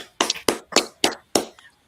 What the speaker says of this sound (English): Let's give a round of applause for my co-hosts here tonight